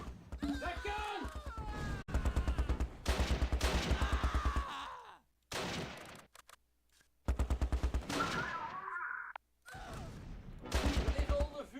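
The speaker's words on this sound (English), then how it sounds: "You're under heavy fire." Heavy gunfire in Close Combat: Last Stand Arnhem, loud repeated bursts of automatic fire and shots in clustered volleys with brief gaps, a voice heard between the salvos.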